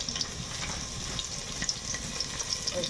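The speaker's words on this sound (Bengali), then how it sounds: "রসুন ভাজা হয়ে গেল" Whole garlic cloves fry in oil in a village cooking pot, a soft, continuous crackling sizzle with small pops, fairly quiet and steady throughout.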